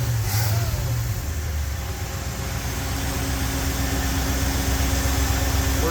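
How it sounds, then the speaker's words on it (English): A Ford 351W V8 in a classic catering truck runs steadily with a low, rumbling engine note, held at raised revs throughout with no clear surges, close and loud. "I'm going to give it some revs to clean it out."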